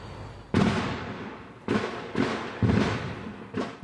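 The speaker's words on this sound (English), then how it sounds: "Flashbangs, the start of SWAT team members moving in on this Kenford Court home" Police flashbang grenades go off during a SWAT raid on a house, several sharp loud blasts in irregular succession, each trailing a brief rumbling echo, with no voices.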